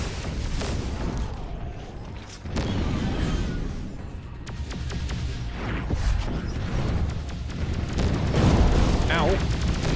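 A time bomb detonates in a video game, a loud, sustained booming blast that rumbles on for several seconds amid other game noise, with a voice talking over it.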